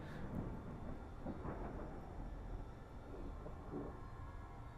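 Rumbling thunder from a lightning storm in the sci-fi video game Stasis, a dense, continuous low roar aboard a vessel sinking into Neptune's atmosphere, with no speech.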